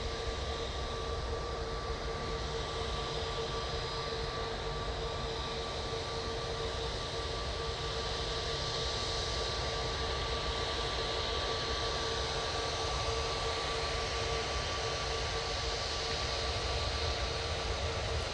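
A Lufthansa A319 airliner departs Manchester Airport for Frankfurt, heard as a steady, fairly faint engine drone with a constant whine and no break or voices.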